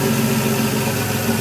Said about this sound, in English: when it drops RPMs like that, the engine starts to labor and shake.